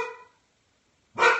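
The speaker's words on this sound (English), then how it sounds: "my dogs bark at absolutely nothing." Dogs barking at home, one sharp loud bark at the end after a fading tonal sound and a short silence.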